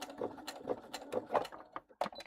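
Sewing machine stitching an eighth-inch seam allowance, a quick run of rapid mechanical needle beats with short pauses, close and fairly quiet, with no voices.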